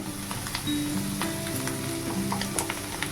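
Fish roe fritters spiced with biryani masala fry in hot oil with a constant close sizzle, light stirring scrapes and a few sharp pops, with no speech.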